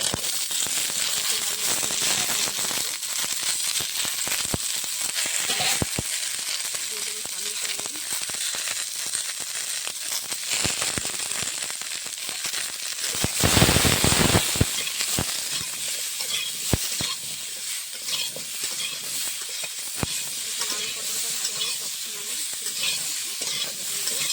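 Pointed gourd and lightly fried potato pieces sizzle and crackle in hot oil for a fish curry, with a loud, continuous frying hiss punctuated by stirring scrapes and sharp pops, surging briefly midway.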